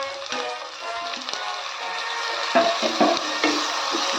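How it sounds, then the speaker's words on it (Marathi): A paste of green chili, coriander and curry leaves sautéing in a pan with browned chopped onion and cumin, a close steady sizzle with irregular scraping and tapping of a spatula stirring, and no talk. "याला छान लाल मिक्सवर परतून घेऊया हे बघा आपण टाकूया हिरवी मिरची कोथिंबीर आणि कढीपत्त्याची पेस्ट"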